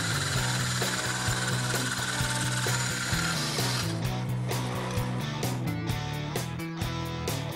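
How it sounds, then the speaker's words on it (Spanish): A power drill cuts 30 mm holes through metal screw-top jar lids, producing a steady loud mechanical whir with rapid ratcheting chatter that turns harsher partway through, close and continuous. "La primera tarea será realizar dos orificios de 30 milímetros en el centro de cada tapa."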